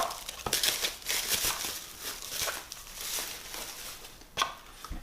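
Plastic packaging crinkles and rustles close by while an LED spotlight from a Bestlight W160 lighting kit is unpacked, with a few sharper crackles and handling taps.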